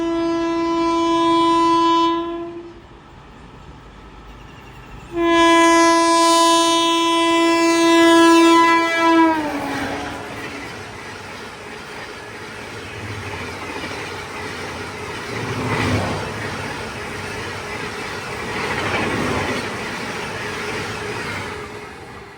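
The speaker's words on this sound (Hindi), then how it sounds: "सामने से आ रही है हिसार दुरंतो" The 12239 Mumbai–Hisar Duronto express, led by a Vadodara-based locomotive, skips Arnetha railway station at 130 km/h, sounding two long loud horn blasts before the roaring rush of the passing train takes over.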